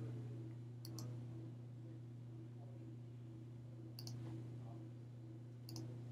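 Three short pairs of computer mouse clicks spaced across a steady electrical hum, crisp and close but quiet, with no talking.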